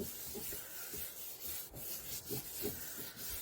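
Designer series paper pressed by hand onto an envelope over a silicone mat, giving faint, soft rubbing strokes that repeat in a steady rhythm close by, with no talk.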